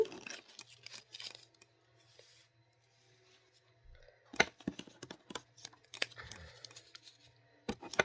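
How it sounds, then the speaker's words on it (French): Game cards for Candy Land are punched out of a cardboard sheet one by one, giving sharp, scattered snaps and tearing crackles in irregular bursts with quiet gaps between, close and fairly faint. "les personnages, il faut défaire les cartes une par une"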